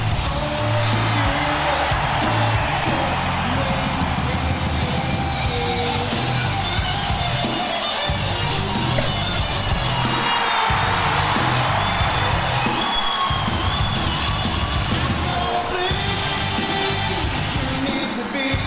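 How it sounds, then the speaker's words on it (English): A large wrestling crowd at the University of Denver roars and yells nonstop for a wrestler's debut in the ring. The cheering stays loud and dense throughout, with whoops rising above the steady wall of noise. "this crowd here in the University of Denver letting Punk hear it"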